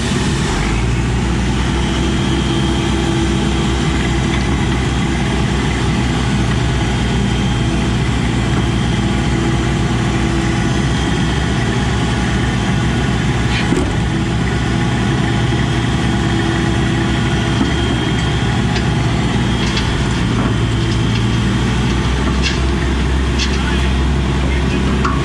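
An excavator engine idling and working while prepping a building pad for a pole barn, a loud steady low diesel drone with a few faint clanks and a voice speaking over it.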